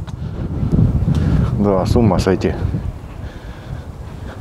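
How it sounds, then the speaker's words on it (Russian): Wind blows by the water on a cool March evening, a steady rough rumble buffeting the microphone while someone speaks briefly. "О, ветер, я, наверное, не смогу закинуть даже удочку."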